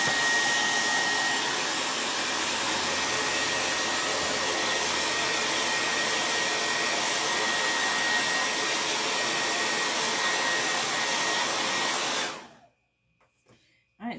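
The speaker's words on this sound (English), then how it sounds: "let me dry the letters" A hair dryer drying chalk-made craft letters runs loud and steady for about twelve seconds, then cuts off abruptly, leaving near silence with a faint sound right at the end.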